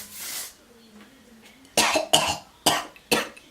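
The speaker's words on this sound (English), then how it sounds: "I just inhaled that and I still kind of have a cough" A woman coughs several times in sharp separate bursts after inhaling hair spray, close and loud, following a quieter breathy stretch at the start.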